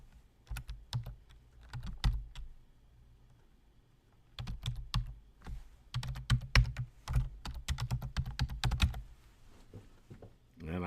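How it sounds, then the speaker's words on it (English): Typing on a computer keyboard while entering an email address, with bursts of close, clattering keystrokes separated by a short pause. "So I'm going to type in that email address"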